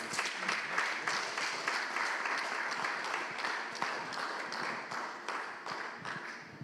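Congregation in a church clapping and applauding together, a steady dense wash of hand claps sustained throughout at a fairly distant, even level with no talk over it.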